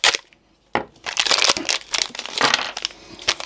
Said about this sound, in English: I hate all this fiddly packaging.